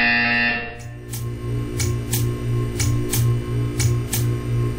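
A buzzer in the Portal 2 video game pulses in an even, repeating rhythm of about a dozen short electronic bursts after a steady tone stops, clear and alone.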